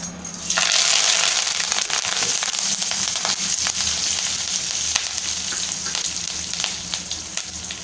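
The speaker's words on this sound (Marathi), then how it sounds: "तेल आपलं चांगलं गरम आहे, त्याच्यामध्ये कढीपत्त्याची पानं टाकूया।" Curry leaves drop into hot oil for a tempering and burst into a sudden loud sizzle that crackles and pops, then settles into steady frying with stirring.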